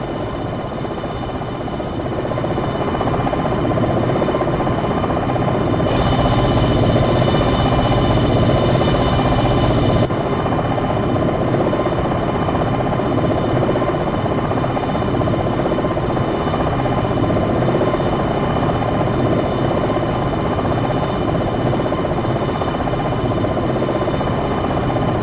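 An AH-64 Longbow helicopter in the Jane's Longbow flight simulator spools up for takeoff, a loud, steady turbine whine and rotor drone that holds throughout, with no voices.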